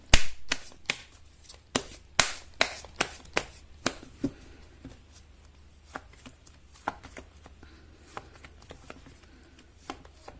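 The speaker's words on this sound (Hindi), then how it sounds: "तो चलिए पहले मैं आपके लिए जो है वो कार्ड निकालती हूँ।" Tarot cards being shuffled and drawn, a quick run of crisp riffling slaps and snaps that grows sparser and softer, close up with no talking.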